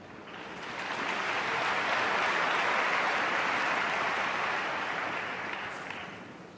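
A record crowd of 9,000 at the Hong Kong Masters snooker final breaks into a swelling wash of applause and excited noise that rises, holds for several seconds and eases off.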